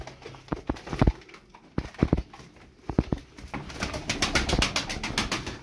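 Tumbler pigeons coo in soft, throaty calls close by, mixed with sharp clicking or fluttering knocks, and a denser rapid patter builds toward the end.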